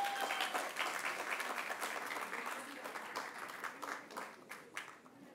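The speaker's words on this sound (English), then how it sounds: "Can we please have a huge round of applause?" Audience applause for award winners at the Aroi & AIR Radio4Child Awards 2019, a dense, steady wash of many hands clapping that holds throughout and tapers slightly toward the end, with no talk over it.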